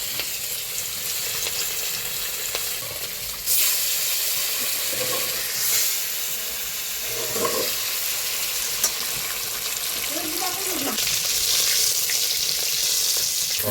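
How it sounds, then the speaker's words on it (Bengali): Catla fish fries in hot oil in a kadai over a wood fire, a steady close sizzle and hiss running throughout, with a few brief crackles and stirring scrapes on top. "কড়াইতে তেলও গরম হয়ে গেছে, এবার দিয়ে দিব মাছ।"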